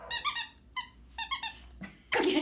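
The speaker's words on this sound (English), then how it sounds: "So we've discovered that he likes things that squeaks and he likes things that crinkles." A medium-sized, soft-coated white dog works a squeaky toy, giving a series of high, rapid squeaks in short bursts, followed by a brief rustle or crinkle close by.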